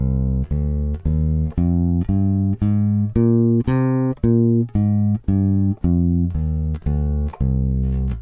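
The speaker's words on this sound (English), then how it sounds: "So the natural minor scale in C again sounds like this." A bass guitar plays a C natural minor scale, about sixteen evenly spaced plucked notes stepping up and back down, clear and close with no talking.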